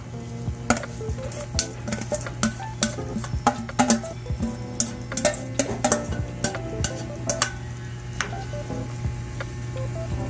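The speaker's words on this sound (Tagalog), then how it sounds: "Next, lalagay na natin yung ating langka para lumambot na siya." Jackfruit simmering in coconut milk in a pot with shrimp and crab, stirred over and over with a spoon, making frequent clattering scrapes and wet squelches over a low, steady bubbling hum and no talking.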